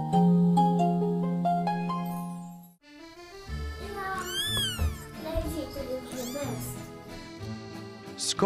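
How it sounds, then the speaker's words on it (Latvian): A Scottish Fold cat gives several rising and falling meows close up, partly over tonal music, with a short pause midway before more drawn-out cries. "Skotu nokareno ausu kaķa pievilcības liepjas ne tikai viņu mīlīgajā purniņā un lielajās aizkustinošajās naivajās acīs."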